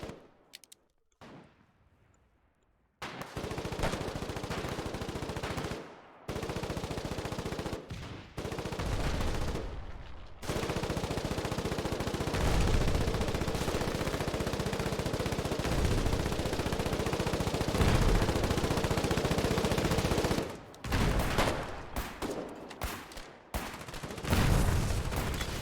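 Sustained gunfire from the war game Foxhole, with dense, continuous bursts that sound like machine gun fire, loud and close, set apart by a few brief lulls and no talking.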